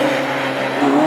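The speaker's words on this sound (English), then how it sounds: "Always a delight to see those as they do come out of pit lane and roar the engines and spin the" Classic hot rod race cars leave pit lane at Hednesford raceway, engines roaring loudly up close with a rising snarl and a touch of tyre squeal in one short burst.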